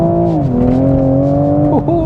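The 3-litre BMW engine in a Toyota GR Supra Jarama Racetrack Edition on a circuit hums loud and close, its steady note dipping slightly, then blipping sharply near the end as the driver drops a gear.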